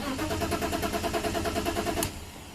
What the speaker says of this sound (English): If I crank, the car doesn't start.